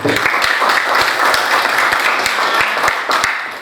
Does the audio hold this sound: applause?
yes